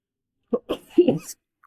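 A short run of three or four rough, close coughs in quick succession, with a brief pause before the last ones.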